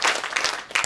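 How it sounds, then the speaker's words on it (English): A brief burst of applause at a university research conference, many hands clapping together in a steady patter. "Let's clap for her."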